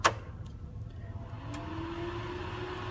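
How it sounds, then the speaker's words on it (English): A sharp switch click sets off a plasma cutter's cooling fan, whose faint hum spins up and rises steadily in pitch over a low background drone. "did you hear that fan start running?"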